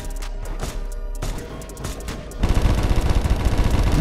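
Gunfire in the Roblox game Da Hood: spaced sharp shots at first, then a sudden loud, dense rapid-fire barrage that runs continuously to the end.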